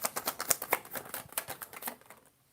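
Playing cards being shuffled by hand during a live evening reading, a quick run of crisp riffling clicks that trails off and stops near the end.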